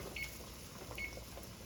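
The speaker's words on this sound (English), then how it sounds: "Timer." Two short, thin electronic beeps from a kitchen timer sound about a second apart during steak cooking, faint and set against a quiet background hum.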